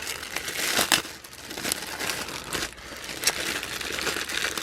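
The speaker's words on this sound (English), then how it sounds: "Sorry for the crinkling." Plastic and paper packaging from a spring pocket letter swap crinkles and rustles close by, with bursts of crumpling that rise and fall across the whole stretch.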